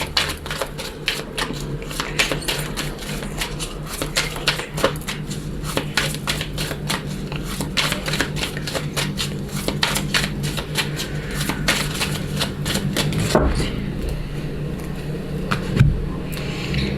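Lenormand oracle cards are cut and shuffled close up, with a steady papery riffling and flicking that runs continuously, then a few sharper taps and slaps as cards are drawn.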